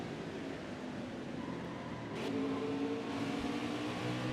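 A race truck engine drones steadily in NASCAR Heat 5, with the revs changing slightly as it shifts and brakes, a continuous mechanical hum with no clear separate gear or brake events.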